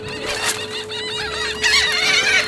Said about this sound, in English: Prettiest seagulls I've ever seen.